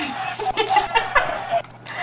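Minecraft chickens cluck and squawk in quick bursts as they burn, over a low constant hum, close and fairly loud.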